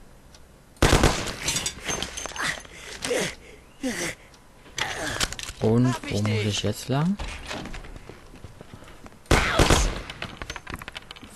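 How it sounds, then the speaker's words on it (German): Gunshots in the video game Mafia crack out in separate bursts, including a rapid automatic volley, while someone talks between them. "Wow, wo kam der Schuss her?"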